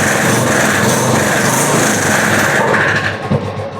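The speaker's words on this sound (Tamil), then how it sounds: "ஸோ வண்டி ஸ்டார்ட் பண்ணி காமிக்கிறேன் பாருங்கள்." A 2014 Royal Enfield Bullet 350 Classic motorcycle engine runs steadily and loud up close, a continuous busy mechanical drone that eases off slightly near the end.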